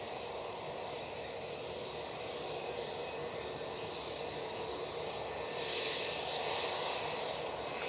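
A departing airliner at Manchester Airport fills the air with a continuous, broad jet rumble and hiss that holds steady and swells slightly toward the end, heard alone without speech.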